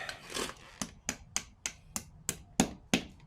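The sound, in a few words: hammering small bolts into place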